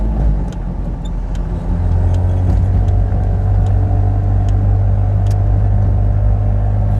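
A 1974 Daihatsu Fellow Max two-stroke kei car drones steadily with a low rumble and buzzy tone as it drives up Dyers Pass Road, loud and close, with no one talking.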